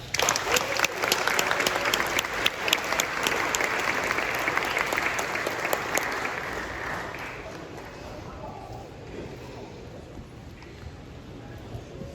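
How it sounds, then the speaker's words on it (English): At a high school graduation ceremony, a crowd applauds an absent honoree with loud, dense clapping for about six seconds, then fades to scattered claps and quieter room murmur. "I would like to give a round of applause for Miss J. Lee Webb"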